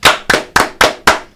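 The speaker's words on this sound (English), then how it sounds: "5 claps." Five sharp hand claps in a steady rhythm, each a crisp close slap with a short decay, evenly spaced over about a second and a half with no talk around them.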